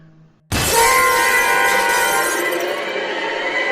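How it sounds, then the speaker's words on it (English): A window smashes suddenly in a radio-drama scene, a loud burst of shattering glass that rings on with scattered tinkling shards for a few seconds. "Another shattering sound."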